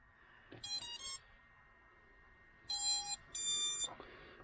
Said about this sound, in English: I can hear 3 beeps.